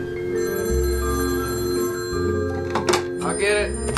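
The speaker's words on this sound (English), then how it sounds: "Phone's ringing." A telephone bell rings loudly and steadily in a David Lynch film scene, with sustained metallic tones that carry on through the clip while a voice speaks briefly near the end.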